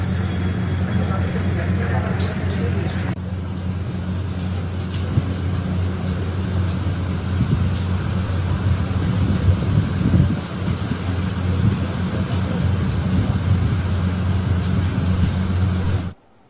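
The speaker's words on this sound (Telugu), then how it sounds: "హైదరాబాద్ లో మరోసారి వర్షం దంచికొట్టింది" Heavy rain pours continuously in Hyderabad, a dense steady roar with rumbling thunder underneath throughout, loud and close, ending abruptly.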